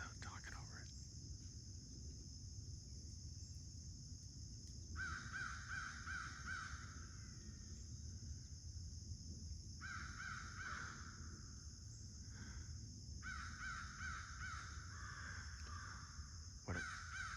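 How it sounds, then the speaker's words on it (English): A bird calls outdoors beside a roadside creek bed: repeated harsh, crow-like caws in short bursts, fairly distant over steady insect and ambient hiss, with faint whispering at times. "You guys know what kind of bird that is?"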